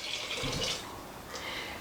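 Water poured into a cooking pan with sugar for hard candy, a short soft splashing trickle close by, no talking.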